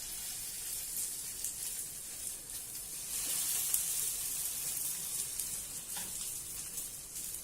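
Idli pieces laid on a cumin tempering in a pan over low heat, a continuous soft hissing sizzle that holds steady throughout with faint spoon scrapes.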